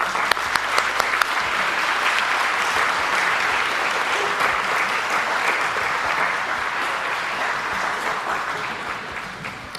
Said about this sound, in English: Please join me in welcoming our young performers with a round of applause